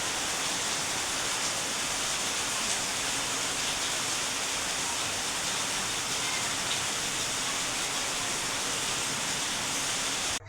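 Steady rain falls as a constant, even hiss for the whole stretch, unbroken and alone with no voices over it.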